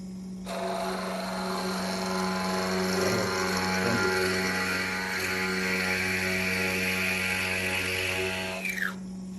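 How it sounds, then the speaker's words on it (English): A drill press plunges into wood to cut plugs, its motor whining steadily with a strong hum and bright cutter noise, running close and loud for about eight seconds before spinning down. "now we're at the drill press, and Liam's gonna start to make his plugs."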